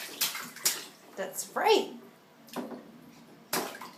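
Splashing water in a bathtub at bath time with a young child, brief irregular splashes and sloshes close by, mixed under an adult's affectionate talk.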